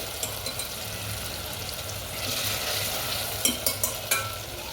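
Tomato sautéing in a pan makes a continuous sizzle with scraping stirs, and several sharp utensil clicks and taps come near the end.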